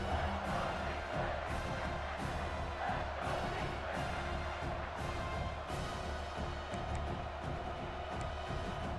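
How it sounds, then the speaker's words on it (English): A college football stadium crowd roars with a continuous, distant wash of cheering and yelling, a steady crowd noise with no clear voices above it. "This crowd is trying to inspire this defense to make a big red zone stop"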